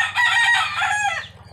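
A backyard-bred gamecock crows once, loud and close, a strained rising then falling call lasting about a second and a half.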